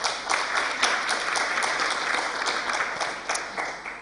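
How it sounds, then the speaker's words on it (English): Audience applause at a Mandela University campus event, a steady dense wash of many hands clapping, moderately loud and continuous throughout with no talk over it. "A round of applause, please."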